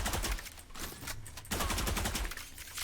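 Rapid gunfire bursts from a Valorant match on the Bind map, loud and dense across the whole moment, with a brief lull in the middle before the shots resume in quick succession.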